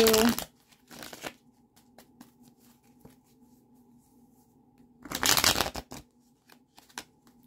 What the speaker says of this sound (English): Let's shuffle this a couple more times,